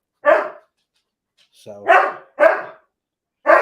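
A dog barks four times in short, loud, close bursts separated by pauses, and a voice briefly speaks between them.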